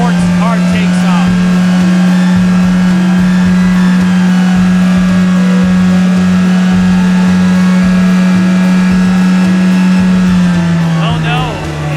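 A toy white sports car takes off in a toy racing competition, giving a steady, loud motorized whir that holds an even pitch for the whole stretch and dips slightly at the very end.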